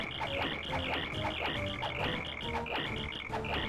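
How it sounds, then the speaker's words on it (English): A chirping cricket sound effect that plays in Paper Mario: The Thousand-Year Door when the hammer is swung: rapid repeating chirps that pulse steadily without a break, loud and with no talk over them. "You can actually hear the cricket sound effect when you swing the hammer."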